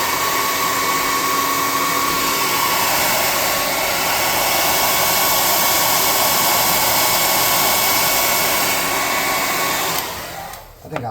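A hair dryer blows to dry paint on a miniature robot built from plastic sprues, a loud, steady, close whoosh that runs unbroken for about ten seconds before cutting off.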